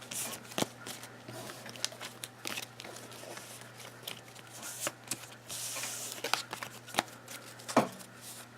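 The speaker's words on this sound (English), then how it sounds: "let's just shuffle real fast" Quick, crisp riffling of a Yu-Gi-Oh card deck repeated in short bursts, close by, with soft handling clicks in between and a steady low hum beneath.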